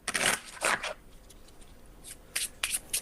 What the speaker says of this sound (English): So if you take this deck of cards, shuffle them up